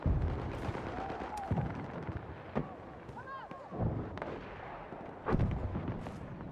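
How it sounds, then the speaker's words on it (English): Mortar fire landing during a Battlefield match: several heavy, distant booms and thuds scattered over a busy battlefield din, with whistling projectiles and other gunfire mixed in. "These motherfuckers trying to mortar my position."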